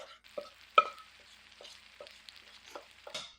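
Cornbread batter in very hot oil in a skillet, a faint, sparse sizzle of scattered crackles and pops, one sharper pop early on, quiet and close with no talking.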